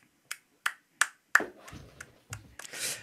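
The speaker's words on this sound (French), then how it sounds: "on applaudit" A few separate hand claps on a French comedy show, three sharp isolated claps followed by scattered softer handling sounds and a brief rustle, close and fairly quiet.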